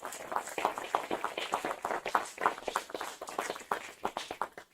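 A research showcase safety breakout session audience gives a round of applause after a presentation: many hands clap in a continuous, moderately distant patter that holds steady for several seconds.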